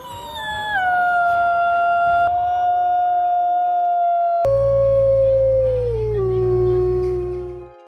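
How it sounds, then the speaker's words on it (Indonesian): Wolves howling in long, sustained, gliding tones, several voices overlapping and echoing loudly and close for the whole stretch, with a second chorus joining halfway through. "Suara serigala lebih keras, lebih panjang, lebih menggema, lebih terkenal"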